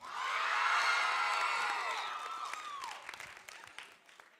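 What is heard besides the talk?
crowd cheering and church clapping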